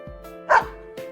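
A dog named Snowy in the video game Persona 4 Arena Ultimax gives one short, loud bark, with faint yips before and after over a sustained musical tone.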